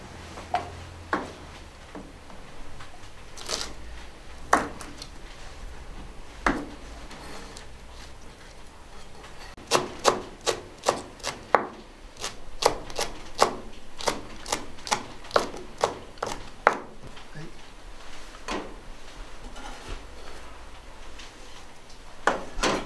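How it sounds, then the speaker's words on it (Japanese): A knife chops garlic chives (nira) on a cutting board for gyoza filling, with sharp, close taps coming first sparsely and then in quick rhythmic runs. "では続いて次はニラを切っていきます"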